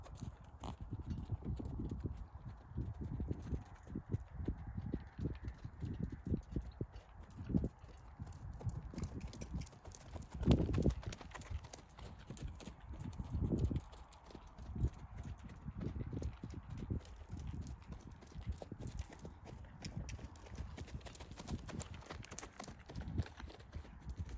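A horse being ridden in a gaited walk moves forward with a continuous, steady clip-clop of hooves, heard close and moderately soft with a few louder footfalls.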